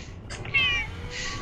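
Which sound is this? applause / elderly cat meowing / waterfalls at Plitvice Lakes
elderly cat meowing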